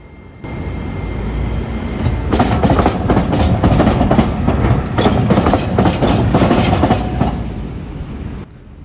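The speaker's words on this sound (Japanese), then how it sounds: "ここは日本全国でも数少ない鉄道と軌道がダイヤモンドクロスする場所となっています。" Train wheels clatter loudly across a rare diamond crossing where a railway line intersects a tram track in front of Ōtemachi station tram stop, Shikoku, Japan, a dense rapid clickety-clack swelling for several seconds and fading.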